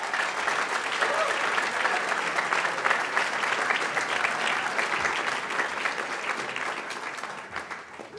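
Sustained applause from a dinner audience welcoming David McCraw at the RCFP 2017 dinner, a dense, steady wash of clapping from a large room that holds level for about seven seconds, then thins and fades toward the end.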